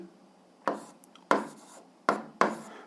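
A pen scratches out an eighth-grade algebra solution on paper in four quick, distinct strokes, close and quiet against a silent background.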